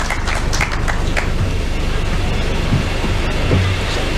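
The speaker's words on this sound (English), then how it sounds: "Let's clap for her" An audience at a Kenyan business event applauds steadily, a continuous wash of many hands clapping that stays loud and even for several seconds without talk.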